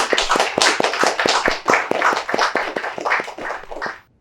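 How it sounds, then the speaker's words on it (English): A brief burst of clapping, sharp distinct claps in a quick steady rhythm, close and fairly loud, fading out at the end. "they deserve a huge round of applause for the spectacular success"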